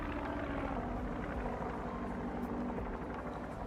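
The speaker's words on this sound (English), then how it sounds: "There goes the plane." An airplane passes by in the video game Duck Simulator, a continuous rumbling engine drone at steady loudness that carries throughout with no talk.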